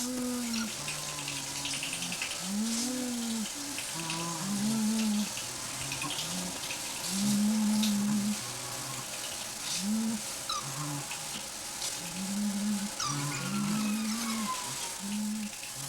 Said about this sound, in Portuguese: Todos estes sons são dos elefantes, que não ouvimos antes, pois estão abaixo da frequência que as pessoas podem ouvir.